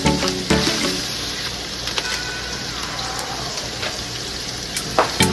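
Tony's gumbo base is stirred in a pot, a soft sizzling bubble with scraping and clinking of a utensil against the pot, punctuated by a few sharp knocks.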